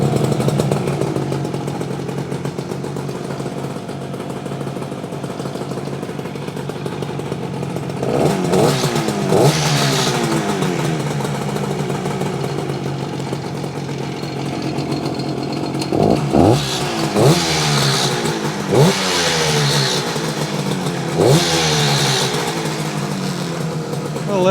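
A 1968 Yamaha AS1C motorcycle engine runs at a steady idle, up close and loud, with several sharp revs rising and falling throughout and a voice talking over it.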